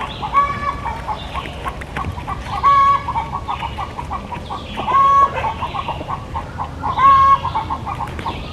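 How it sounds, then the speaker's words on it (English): Chickens clucking close by, with a rooster's repeated crowing calls rising above the steady farmyard noise, loud and clear. "This is a rooster."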